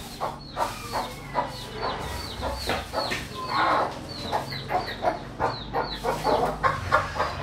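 Chickens cluck in a series of short, repeated calls at close range, with no one talking over them, against a busy farmyard background.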